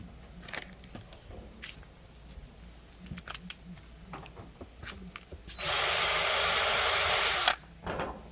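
A power drill whirs loudly for about two seconds, drilling a pilot hole for a grill wind guard, after scattered clicks and handling noises, then cuts off sharply.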